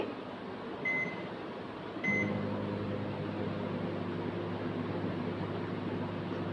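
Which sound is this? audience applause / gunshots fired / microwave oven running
microwave oven running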